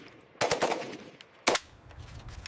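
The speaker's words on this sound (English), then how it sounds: "The rifle's accuracy and reliability are tested during live fire exercises." AK-47 rifle fired during live fire testing, two sharp, loud bursts about a second apart, the first a rapid cluster of shots and the second a single crack, with a quiet pause between.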